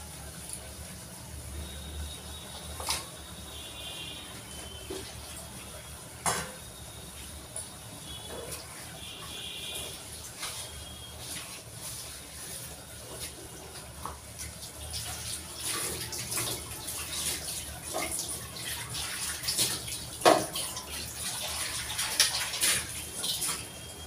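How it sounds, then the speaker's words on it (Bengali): Oil-based tangra fish curry boiling in a covered pot on a kitchen stove, giving a steady bubbling hiss with small pops that swells slightly toward the end, with no speech over it. "ফুটে গেছে, এবার একটু কমিয়ে দিলাম।"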